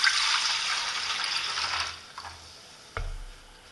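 Water pouring into the tank of a Jura Z6 coffee machine, a continuous close hiss of liquid that thins out partway, followed by a brief knock or clunk.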